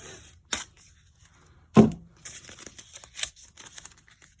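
Masking tape is pulled and torn off the roll to fix a plastic table cover, a few short crisp rips and crinkles, close and fairly quiet.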